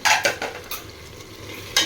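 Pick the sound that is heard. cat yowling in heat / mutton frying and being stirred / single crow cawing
mutton frying and being stirred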